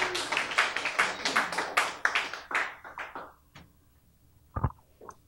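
A small audience at a gathering claps to welcome a guest: a run of distinct, fairly close handclaps that thins out and fades, followed by a lone knock-like tap.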